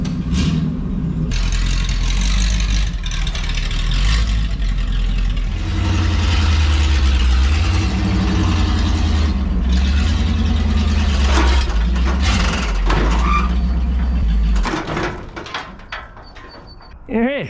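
A Jeep engine runs steadily at close range as the vehicle drives up onto a trailer, its low drone holding for most of the stretch before cutting out. Someone talks over it and clunks and rattles sound around it.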